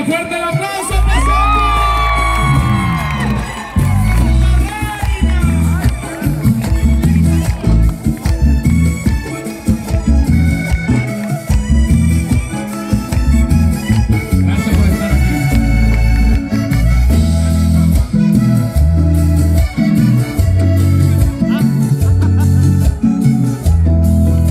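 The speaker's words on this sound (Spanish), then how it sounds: "Que se sienta fuerte el aplauso" Loud audience cheering, whooping and yelling at a live stage performance, a dense and sustained crowd roar over booming music that carries on throughout without any clear pause.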